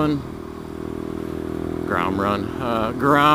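A small Honda Grom motorcycle engine hums steadily nearby, swelling slightly near the end, while someone talks over it.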